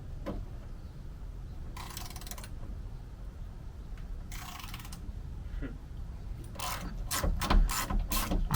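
Socket ratchet turned by hand to back out studs on an H3 spare tire delete plate, giving short bursts of quick clicking that come faster and denser toward the end, close up with no talking.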